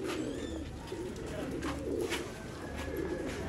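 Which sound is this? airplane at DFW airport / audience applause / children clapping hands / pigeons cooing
pigeons cooing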